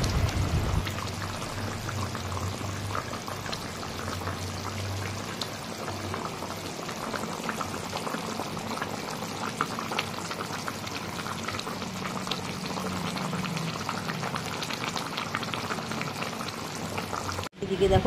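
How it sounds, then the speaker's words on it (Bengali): A boal fish curry boils in a pan in a village kitchen. Steady, dense bubbling and simmering continues for the whole stretch, with faint low hum underneath and a brief clatter at the very end. "এই দেখো ঝোলটা কত সুন্দর ফুটছে টকবক করে।"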